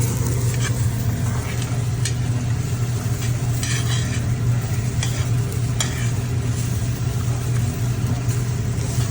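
Large pieces of onion fry in a pot with a moderate, steady sizzle and scattered stirring scrapes over a constant low hum.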